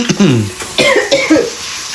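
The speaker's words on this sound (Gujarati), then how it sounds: "ઉધરસ આવવા લાગી છે." Several harsh coughs and a throat clear, close and fairly loud, in a home kitchen on a cold winter evening while dinner is being cooked, with no talking over them.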